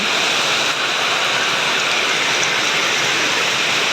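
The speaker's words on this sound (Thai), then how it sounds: "ฝนสาดแรงด้วย แป๊บเดียวท่วม" Heavy rain pours down in a steady, dense roar, loud and constant throughout, with no voices.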